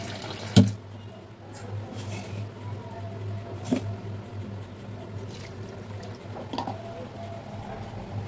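Cup of water poured into semolina for a breakfast batter, a soft trickling splash over a steady background hum, with a couple of sharp knocks from handling the cup.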